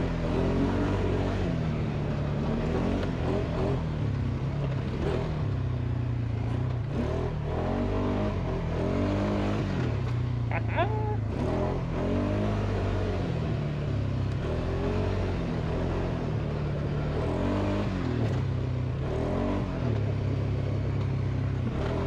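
A 2023 Polaris Sportsman 570 ATV engine revving while riding off-road at an ORV park, a loud steady motor drone that rises and falls repeatedly with throttle changes, close and continuous.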